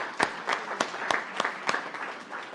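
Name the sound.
audience applause for healthcare workers at press conference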